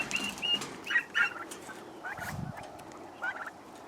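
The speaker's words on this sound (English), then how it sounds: "Oh, let's see the turkeys." Several domestic turkeys gobble in short bursts, fairly close, at a homesteading expo, with a brief pause before a final rattling gobble near the end.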